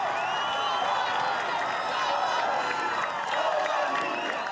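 A crowd at Australian Ninja Warrior cheers and screams on and on in a large arena, loud and unbroken, with a commentator's voice talking over it.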